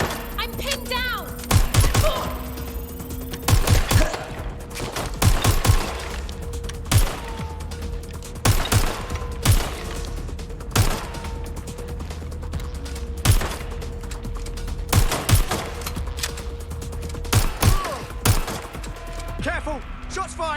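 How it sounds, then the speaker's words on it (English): Bursts of gunfire ring out in a Watch Dogs Legion firefight, sharp repeated shots in irregular volleys over roughly twenty seconds, with a voice and background game sounds between them. "Careful! Shots fired!"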